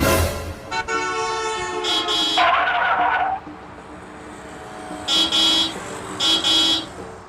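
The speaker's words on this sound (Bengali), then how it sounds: "ওই গাড়িটা হর্ন বাজাচ্ছে কেন" Car horns honking outside during a Jagadhatri Puja festival outing, with loud, close blasts: a long sustained honk, then a lower bleating horn, and two short toots after a pause.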